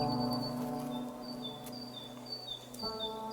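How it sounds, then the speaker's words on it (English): Bird chirps layered into a music beat with keys. Short high tweets repeat over a sustained, tonal musical bed at low volume. "Then those bird sounds."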